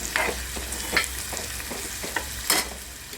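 Green chili chicken masala frying in a pan, a soft continuous sizzle punctuated by several quick scraping stirs of a spoon against the pan, close and without speech.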